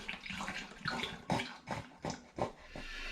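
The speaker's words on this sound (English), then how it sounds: "this is my third litre of apple juice, and this will be all the liquid that goes in there" Apple juice poured into a container to make IRN-BRU-flavoured hard cider, heard as a close splashing, gurgling pour that comes in several uneven glugs.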